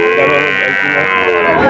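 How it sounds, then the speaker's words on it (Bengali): A calf moos at a cattle market, one long, loud, close bellow filling the whole moment with a steady harmonic tone. "এই একটা দারুণ বাছুর দেখা যাচ্ছে,"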